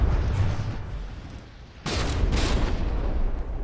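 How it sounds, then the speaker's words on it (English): Warship turrets firing in the naval combat game From the Depths, a dense broadband burst of gunfire starting partway through over a continuous low rumble of battle. "both of the rear turrets are still firing away"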